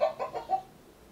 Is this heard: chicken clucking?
yes